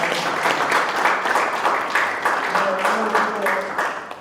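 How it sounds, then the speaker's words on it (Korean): Church prayer meeting congregation clapping in sustained, rhythmic applause, with a voice speaking faintly over the clapping partway through. "자, 다 같이 박수를 격려하겠습니다."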